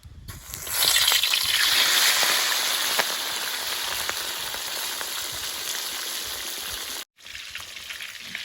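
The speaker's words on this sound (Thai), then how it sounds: "เราจะทอดกั้งให้สุกเหลือง" Mantis shrimp deep-frying in hot oil, a loud, steady close sizzle with bubbling crackle that swells early, holds, and briefly cuts out near the end before resuming.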